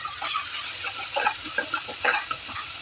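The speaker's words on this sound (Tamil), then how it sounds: "இங்க பாருங்க, கொஞ்சம் வெங்காயம் வதங்கிடுச்சுங்க." Onions sautéing in a pan for a goat liver pepper gravy, a soft continuous sizzle with a few louder stirring scrapes and clicks, close and without talk.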